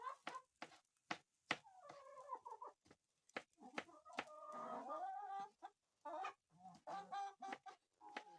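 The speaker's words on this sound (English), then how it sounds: "Yeah, the chickens." Chickens in an African village cluck and squawk in short irregular bursts, some drawn-out calls, close by and fairly quiet, with sharp knocks and bumps between them.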